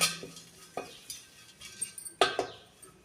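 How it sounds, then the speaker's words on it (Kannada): Curry leaves being stirred and roasted in a pan, with occasional metallic spoon clinks and scrapes over a quiet background, close and sparse. "ನೋಡಿರಿ ಫ್ರೆಂಡ್ಸ್, ಇವಾಗ ಕರಿಬೇವನ್ನು ಫ್ರೈ ಮಾಡಿಕೊಂಡೆ."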